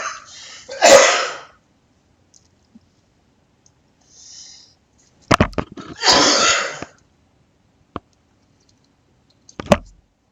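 A man coughs near the microphone, two sharp bursts separated by quiet, along with faint clicks and throat noises in an otherwise silent room.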